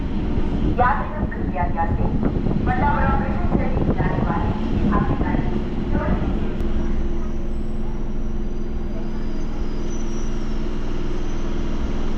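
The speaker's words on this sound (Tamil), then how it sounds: "ட்ரெயின் உள்ள என்ட்ரா வருதாங்க அம்பத்தூர் ரயில்வே ஸ்டேஷன்" Suburban train pulling into Ambattur railway station on the Chennai Central to Pattabiram line, a steady low rumble with rattling carriages heard from on board, under someone talking for the first half, then continuing alone.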